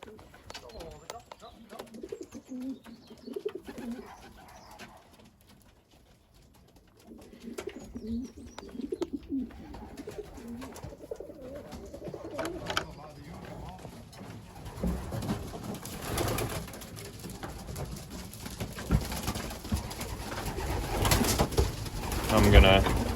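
Belgian racing pigeons coo in a loft with soft, repeated low throaty calls, near and fairly quiet, alongside scattered wing flutters and rustling, with people talking in the background.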